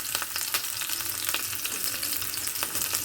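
Chopped green chillies fry in hot oil in a pan, a close, dense sizzle with sharp crackling bursts and spatters scattered through it, steady in loudness; no voices.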